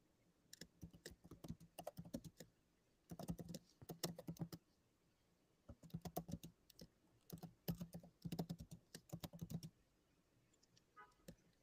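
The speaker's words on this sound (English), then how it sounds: "Lots of typing going on." Quiet, close computer-keyboard typing in uneven bursts of rapid key clicks separated by brief pauses, steady throughout with no voices.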